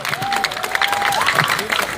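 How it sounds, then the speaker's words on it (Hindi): Crowd applause at a political youth-support gathering in India, a brief burst of clapping with a sustained tonal whine and some voices mixed in. "एक बार फिर से जोरदार तालियां हो जाए महुआ जी के लिए।"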